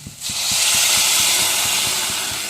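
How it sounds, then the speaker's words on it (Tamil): A loud, steady hiss of water hitting a hot pan, close by, with faint rhythmic low thumps underneath throughout. "நாலு டம்ளர் தண்ணி ஊற்றிக்கிறேன்"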